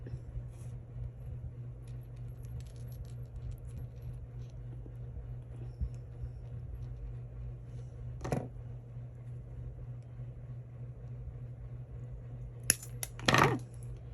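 Metal jewelry chain links snipped with cutters during a craft project: two short, sharp clicks, one around the middle and a louder double snap near the end, over a steady low hum in an otherwise quiet room.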